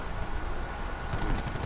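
Rapid gunfire from a Call of Duty: Black Ops 4 multiplayer match, loud bursts of shots running continuously and thickening toward the end.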